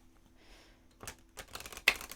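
Large, sturdy oracle cards from the Auset Egyptian Oracle deck riffled together in a single quick shuffle, a brief crisp flutter of card edges ending in a sharp snap, close and alone after near silence.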